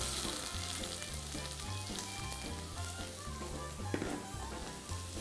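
Diced onion sizzles steadily in warm olive oil in a pan, a continuous close frying hiss with small crackles and a few stirring knocks, no voices.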